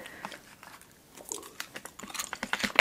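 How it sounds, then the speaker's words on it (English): Crunchy candy is being chewed up close during a candy mukbang, with irregular crisp crunches and bites that grow denser and louder toward the end, and no talking. "This is really good. It's nice and crunchy."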